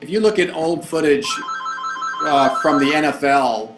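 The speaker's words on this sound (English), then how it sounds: "sorry, that's my phone going off." A mobile phone rings with a steady electronic tone under someone talking on a Skype call, the ring sustained for a couple of seconds beneath his continuing speech.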